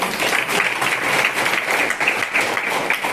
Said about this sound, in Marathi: सर्वांसाठी टाळ्या वाजवाव्या माझ्या.